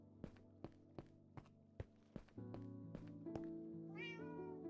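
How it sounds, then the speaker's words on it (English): A cat meowing in a game setting, its drawn-out, tonal meow rising near the end after a regular series of soft thumping footsteps and a steady background hum. "It's one of my cats."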